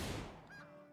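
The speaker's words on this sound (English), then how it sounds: "Matt, attack the goose, please." A goose from the Rimworld video game lets out a single short honk, loud at the start and then fading into a thin tonal tail, with no talk over it.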